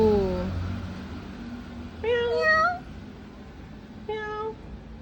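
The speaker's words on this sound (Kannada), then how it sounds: "ಫೈಟ್ ಕ್ಯಾಟ್ ಫೈಟ್ ಇವಾಗ" Two cats face off and fight, letting out three drawn-out, wavering meows of rising intensity, spaced a couple of seconds apart. A person talks quietly underneath.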